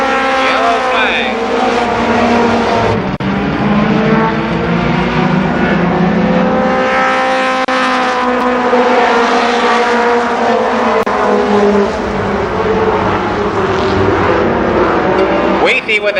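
ARCA Pro 4 race cars roar around Columbus Motor Speedway in a 1992 race, loud engines rising and falling in pitch as a pack of cars accelerates past, with an announcer calling the action over them.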